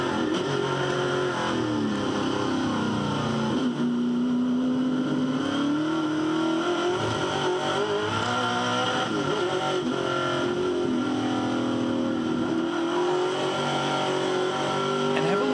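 A Touring Car Masters race car engine at Hidden Valley Raceway roars and revs continuously at high pitch, loud and close, its tone rising and falling as it accelerates off a corner.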